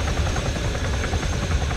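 Helicopter in a military video game, a steady loud rotor and engine drone throughout, with no talk.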